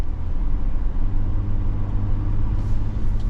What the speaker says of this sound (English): It's not a fast truck, but it's going to pick up, get up to speed